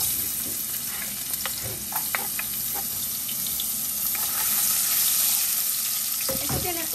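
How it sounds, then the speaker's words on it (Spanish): Onion sautéing in rendered bacon fat for chili con carne, a steady broad sizzle throughout with a few soft utensil clicks, close and even, no talking. "en este mismo aceite, esta grasita que ha botado mi bacon, voy a sofreír la cebolla"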